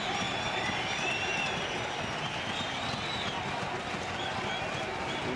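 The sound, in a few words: cricket crowd cheering and applauding a wicket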